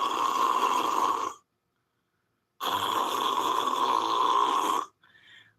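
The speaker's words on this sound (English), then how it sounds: "Oh my God, he snores so loud." Loud snoring from a sleeping man, two long rasping snores separated by a silent pause, close and alone, followed by a faint short breath.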